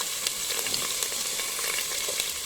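Ginger and spices frying in a pan for a chicken biryani with vegetables, a dense continuous sizzle with light stirring scrapes, close and steady throughout.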